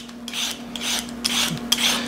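Carrots being peeled for a carrot cake make repeated close, scraping rasps in an uneven rhythm over a faint steady hum.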